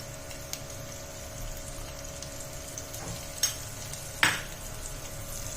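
Rice powder fries with garlic and chili flakes over a low flame for a lemon-garlic pork dish, giving a steady soft sizzle broken by two sharp spatula scrapes against the pan.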